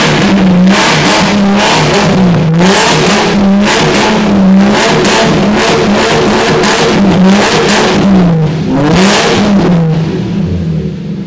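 A Subaru rally car with a V6 engine and straight-pipe exhaust is revved repeatedly, loud and close, each blip rising and falling in a fairly regular rhythm of roughly a dozen throttle stabs with raspy, crackling exhaust.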